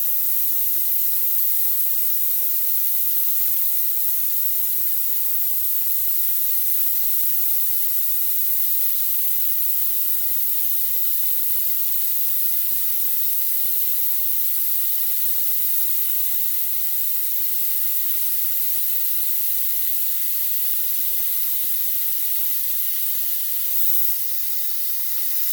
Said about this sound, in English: we're going to push this button here and that's going to release the steam